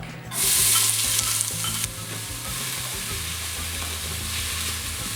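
Onions and garlic hit hot olive oil with a loud burst of sizzling that settles into a steady, close frying hiss with stirring.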